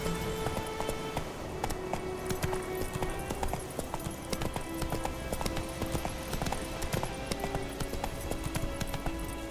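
Geralt's horse Roach gallops in The Witcher 3, steady rhythmic hoofbeats clip-clopping continuously at close range over a moderate ambient bed.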